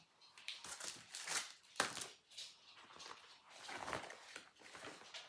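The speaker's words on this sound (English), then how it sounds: "You can probably hear my dog tapping around." A dog's claws tap around on a floor indoors, giving faint, scattered clicks and light shuffling steps in an otherwise quiet room.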